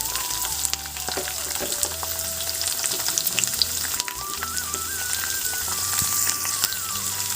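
Green chillies and onions fry in a pan for carrot rice, a constant close crackle peppered with sharp little pops and spits, running under a quiet music track with no voices.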